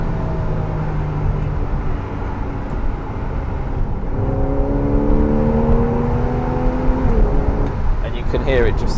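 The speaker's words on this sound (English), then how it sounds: "The exhaust note will actually change slightly because even though this car hasn't got the sports exhaust, it is a valved exhaust" A Porsche 911 Carrera of the 991.1 generation with a valved exhaust and PDK gearbox accelerates, its engine note droning and rising steadily in pitch, loud and close throughout with a brief shift near the end.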